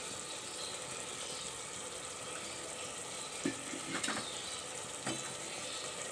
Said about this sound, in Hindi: अब हम मसाला डालने के बाद इसको हम 1 से 2 मिनट अच्छी तरीके से भूनेंगे